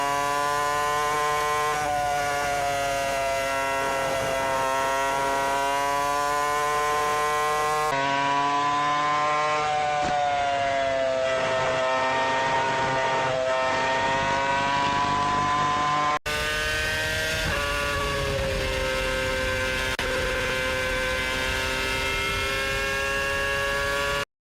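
A Formula 1 car screams at high speed through Turn 8 at Istanbul Park, a sustained high-pitched engine whine rising and falling in pitch through the long corner, loud and close, with cuts between passes and no talk.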